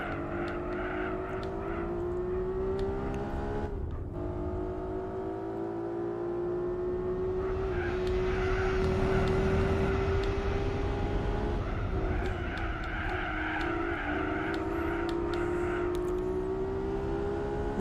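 Honda NSX race car in Gran Turismo 4 driving with a steady high-revving engine drone, pitch climbing and shifting through gears, loud and close with no talk.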